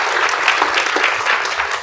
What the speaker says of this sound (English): So let's give a round of applause to Travis.